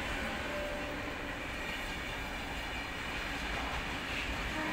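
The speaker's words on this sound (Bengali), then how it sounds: "এই যে ওখানে এক্সপ্রেস ট্রেনগুলো ওখান থেকে যাচ্ছে" Express trains pass by Dakshineswar station, with a continuous loud rumble of rolling wheels and carriages throughout and no voices.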